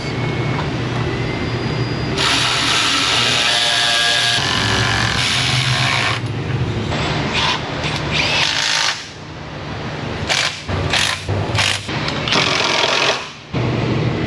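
A power tool whirs loudly and continuously, then breaks into short repeated bursts as heat shield bolts are driven in a car repair shop, close by with no talking.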